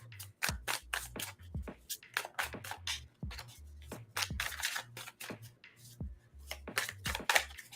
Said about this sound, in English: Let me get a better shuffle.